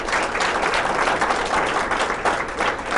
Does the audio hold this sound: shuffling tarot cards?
no